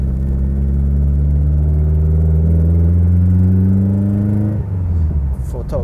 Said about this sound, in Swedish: Men den har ganska högt motorljud